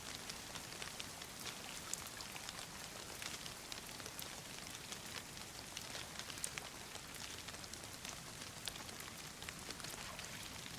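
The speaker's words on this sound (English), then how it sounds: "and then there's rain like down close to me." Steady rain pours throughout in the survival game DayZ, a dense continuous patter of drops close by, with no other sounds standing out.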